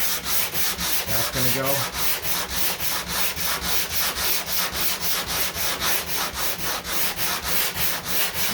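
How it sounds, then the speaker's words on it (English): A DA sander works over the fiberglass hood of a 1969 Corvette C3 during body work, its steady rasping scuff pulsing in a quick even rhythm close up for the whole stretch, with a brief voice near the start. "So I like to just kind of scuff the DA over the top, and then that way the second one can just really get in there and grind."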